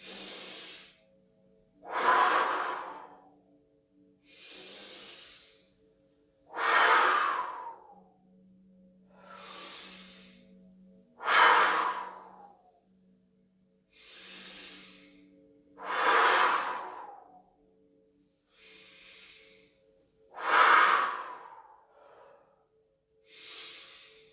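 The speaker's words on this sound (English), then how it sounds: "As much air as you can through the nose, and breathe out all the air in your lungs." Deep breaths drawn in through the nose and pushed fully out of the lungs, about ten long rhythmic airy cycles in steady alternation, each inhale and exhale a loud close rush of air, with no talk.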